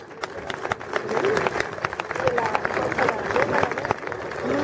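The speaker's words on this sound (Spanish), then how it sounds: "un fuerte aplauso también" Applause from an assembled audience honouring long-serving staff at an awards ceremony, a steady wash of clapping with crowd murmur, sustained and fairly close throughout.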